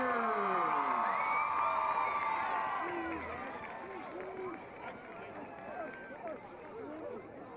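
Crowd at a high school football game cheers for the school's cheer squad with shouts, whoops and a few claps. The noise is loud at first, then dies down into murmuring voices and scattered calls.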